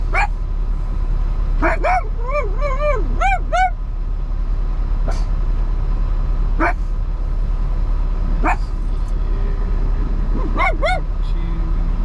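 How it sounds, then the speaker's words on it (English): A dog barks in short bursts and yelps repeatedly, some with a whining pitch, over a steady low truck engine hum. "Barking."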